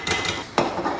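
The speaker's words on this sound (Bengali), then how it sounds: "এবারে পুরো এই গরম মশলা হাঁড়ির মধ্যে ঢেলে দেবো" Fried garam masala is tipped from a pan into a cooking pot, producing a close metallic scraping rattle and one sharp clank of utensil against cookware.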